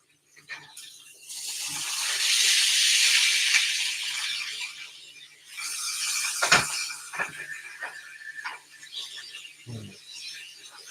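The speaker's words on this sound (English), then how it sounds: "Y'all hear that sizzle?" Food sizzles in a hot pan, a steady frying hiss with a short lull midway and occasional clatter.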